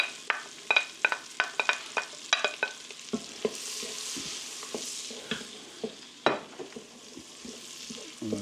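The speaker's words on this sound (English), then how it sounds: "I'm going to cook down this onion and this butter and oil" Onion cooks down in butter, oil and grease for potato soup, with a soft continuous sizzle under a run of sharp, rhythmic spoon-against-pot stirring knocks that come in clusters, then thin out to occasional scrapes.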